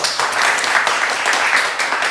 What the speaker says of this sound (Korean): 성도님들께서는 헌신에 대한 격려의 의미로 큰 박수를 보내시기 바랍니다